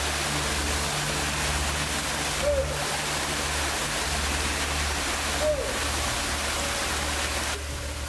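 Waterfall at Mitsumine Shrine in Japan, a sacred Kyokushin karate training site, pouring as a steady, dense rush of falling water that fills the whole clip without pause.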